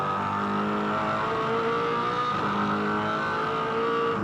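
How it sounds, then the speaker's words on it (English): A V8 Supercars race car engine at Eastern Creek in 2005, with a loud, steady, harmonic engine note held throughout and no talk. "Have a listen here. It's great to listen to these cars."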